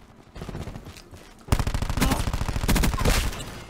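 Gunfire in the video game Firing Range Cordite: after a quieter stretch, loud rapid bursts of automatic fire crackle in quick succession, dense and continuous through the second half.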